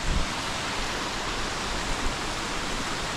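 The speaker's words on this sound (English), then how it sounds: "It's a little waterfall." A small waterfall on a hiking trail in Glacier National Park makes a steady, even rush of falling water, soft and continuous throughout, with no voices over it.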